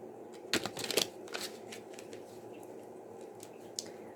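A deck of cards is shuffled up close at a quiet table, giving a short riffle burst of crisp flutters followed by lighter taps and soft card handling.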